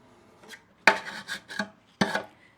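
Loosened old finish being scraped off a wooden dresser, two or three short, rough scraping strokes close up with brief pauses between them and no talking.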